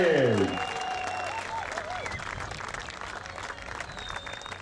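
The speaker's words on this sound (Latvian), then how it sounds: "Un vēlreiz milzīgi aplausi!" Crowd at the 2010 Stipro Skrējiens race applauds the winner, Inga Dapšāne, in steady, dense clapping after a brief voice at the start.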